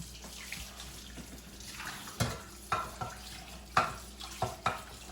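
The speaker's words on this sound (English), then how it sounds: "Hey, honey, are you doing the dishes?" Dishes are washed at a home sink: a quiet bed of running water with scattered clinks and knocks of crockery at irregular intervals.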